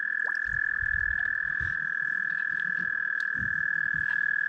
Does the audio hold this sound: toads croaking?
yes